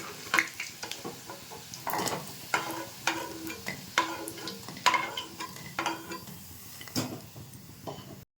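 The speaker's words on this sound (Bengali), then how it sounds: "এগুলো ভাজা হয়ে গেছে তুলে দিচ্ছি" Fried maida snacks are lifted from hot oil, with a soft sizzle under repeated clinks and scrapes of a utensil against the pan, close and irregular, without speech.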